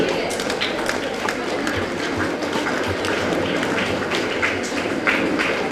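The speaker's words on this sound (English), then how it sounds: "May I hear the thunder of applause for the achievers?" Sustained audience applause at a school World Arabic Language Day prize ceremony, dense steady clapping from a crowd honouring award winners, continuous and fairly loud throughout.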